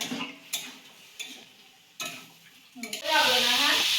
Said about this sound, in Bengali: পেঁয়াজ কলি ভাজা হচ্ছে